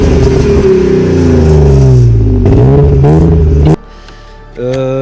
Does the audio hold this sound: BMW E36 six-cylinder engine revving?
yes